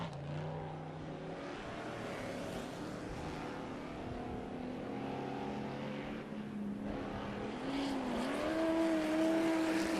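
Off-road race trucks in a dusty TORC Crandon race tear through the gravel pit turn, a continuous broad engine roar with shifting pitch, rising into a higher, steadier whine near the end.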